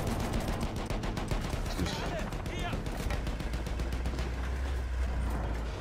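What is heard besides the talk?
gunfire in the video game Battlefield 1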